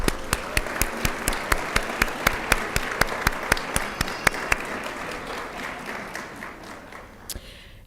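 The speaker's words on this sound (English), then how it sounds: "Please help me by giving them a round of applause." A graduation audience for the NAU occupational therapy Class of 2023 applauds steadily, with a loud rhythmic beat of sharp claps on top that loosens into a thinner, fading ovation.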